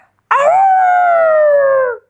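A voice imitates pugs howling: one sustained, wavering howl that rises sharply and then slowly falls, loud and close, heard alone for nearly two seconds.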